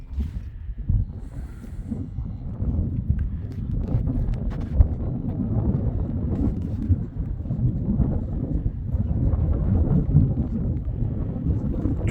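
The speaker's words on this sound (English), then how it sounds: "the wind is blowing" Wind buffets the microphone in an open pasture where a lamb with a broken leg has just been put out among other animals, producing steady low rumbling gusts throughout with no speech.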